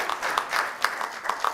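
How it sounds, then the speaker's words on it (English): Scattered applause from a small conference audience after a presenter finishes, quiet and thin, with a few louder claps standing out over a soft, steady patter. "It's a round of applause."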